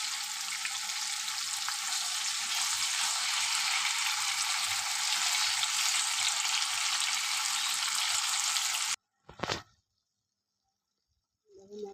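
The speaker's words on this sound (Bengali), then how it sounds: "মশলাটাও দিয়ে দিয়েছি এবার ভালো করে আমি কষিয়ে নেব" Spices sauté in a pan for a boal fish curry with a constant loud hiss and sizzle for about nine seconds, then it stops abruptly, followed by a brief splash and near silence.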